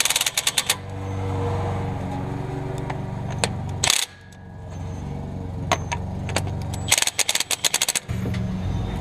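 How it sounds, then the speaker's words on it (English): An impact wrench tightens the pinion nut on a 2005 Jeep Grand Cherokee during a rear pinion seal repair, firing in several sharp rattling bursts, loud and close, with brief pauses and a low idle hum between them. "I'm going to take this impact to get it snug."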